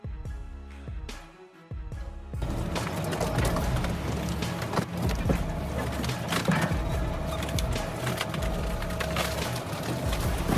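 A WRO 300X cone splitter bites into a long, thick pine log, producing loud continuous cracking, splintering and crunching of wood with sharp snaps throughout.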